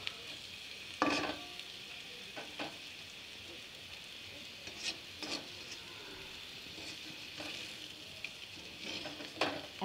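Gentle stirring of pointed gourd (potol) slices frying in a pan: a soft steady sizzle with scattered scraping and clinking strokes of a spatula, close and moderate in level, no voices.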